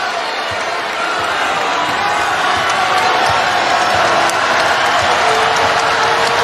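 A packed arena crowd of about 6,000 roars steadily at an NCAA second-round women's basketball game between Gonzaga and Utah, a dense, constant wash of noise with faint shoe squeaks and bounces underneath.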